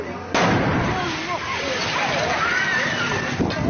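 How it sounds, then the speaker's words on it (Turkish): A sudden loud blast as an LPG-powered car explodes in a neighborhood street, followed by sustained roaring, crackling burning noise with voices talking over it. "bu araba büyük bir gürültüyle patladı"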